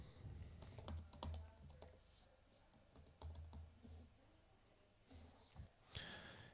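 Rapid bursts of typing on a computer keyboard, with quick clusters of clicks separated by pauses, close and fairly quiet, with a faint breath or sigh between.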